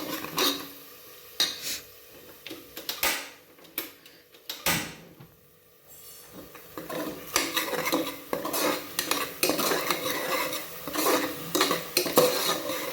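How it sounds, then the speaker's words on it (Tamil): Moong dal stirred in a cooking pot with ginger garlic paste and onion, making brisk, close metallic scrapes and clanks of a spoon against the pot, sparse at first, then a busy rapid run of stirring. "போட்டு நல்லா ஒரு கிளறிடலாம். இந்த மாதிரி நல்லா ஒரு கிளறு."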